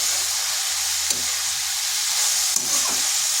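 Cabbage fries over high heat in a pan, giving a constant bright sizzle and hiss with two brief scraping stirs of a spatula.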